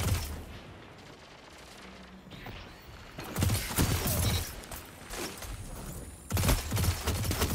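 Video game gunfire from a pulse rifle and the Desperado, with bursts of rapid shots starting about halfway through, loud and close, with a short pause before a final volley.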